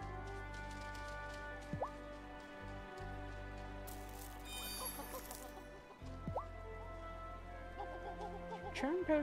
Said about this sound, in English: Charm potions work on chickens.